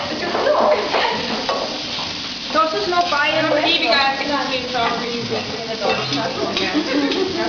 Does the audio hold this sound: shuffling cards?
no